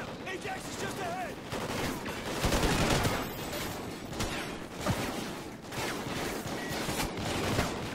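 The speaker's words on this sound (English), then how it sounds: "Who's shooting me?" Rapid gunfire in the video game Call of Duty: Ghosts crackles in dense bursts and volleys, with sharp individual shots over a constant battle din and a voice faintly under it.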